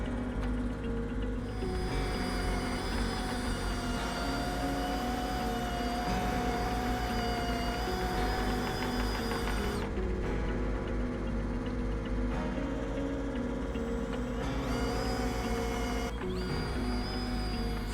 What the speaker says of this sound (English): This is our homemade mixing device. This will help mix up all the solids in the tank